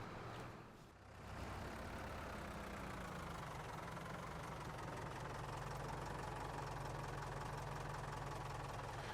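A tractor engine idles in Farming Simulator 22, a steady mechanical rumble with a faint knocking texture that runs continuously, briefly dipping near the start and then holding even.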